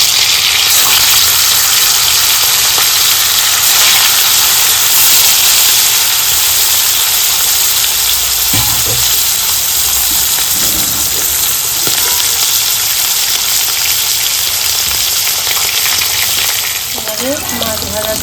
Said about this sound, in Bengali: একটা একটা করে মাছ ভেজে নেব।